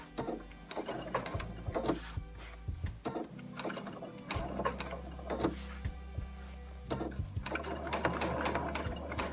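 A sewing machine stitches a fabric placemat in close, rhythmic mechanical bursts, speeding and pausing several times, with a low motor hum under the clatter.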